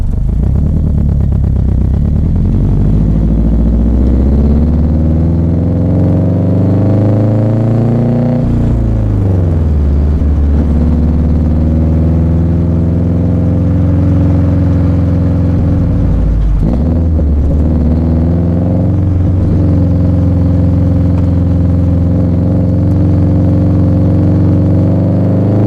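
A Subaru STI drives on a neighborhood road, its engine droning loud and close with a steady low rumble that rises and falls through gear changes and shifts in acceleration.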